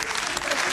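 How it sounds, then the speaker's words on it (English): A film crew breaks into a short burst of applause, a dense wash of claps that continues evenly with no break across the brief moment. "crew claps at that"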